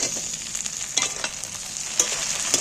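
Tomatoes frying with softened onions in a pan, a bright continuous sizzle punctuated by several sharp spatula scrapes and taps at irregular intervals, close and loud, no talking.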